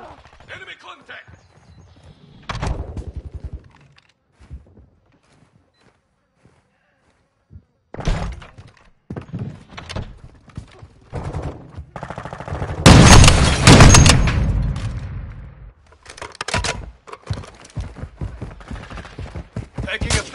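Gunfire in a firefight erupts in loud, dense bursts of shots around the middle, with sporadic reports and shouted voices before and after.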